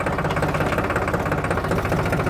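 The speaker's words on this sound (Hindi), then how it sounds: "ये मैंने सेकंड गियर में दोस्तों ट्रैक्टर डाल रखा था, ये मैंने फर्स्ट गियर में ट्रैक्टर डाल लिया है" A New Holland 3630 Super Plus 50 hp tractor runs close up in first gear, its diesel engine giving a steady, loud, throbbing drone with rhythmic low knocking pulses throughout.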